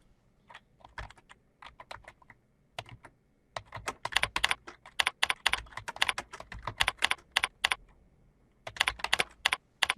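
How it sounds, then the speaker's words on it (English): Someone types on a computer keyboard in a clinical software setting, first a few scattered keystrokes, then rapid bursts of close, crisp clicks separated by short pauses, with no talking. "Typing in my macros and I'm hitting the space bar."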